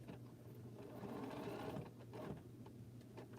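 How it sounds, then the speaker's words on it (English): A sewing machine stitches a jelly roll quilt block with a steady, close mechanical whir, its pace briefly changing as it runs on. "Stitch my way over to the corner. Get there and back stitch."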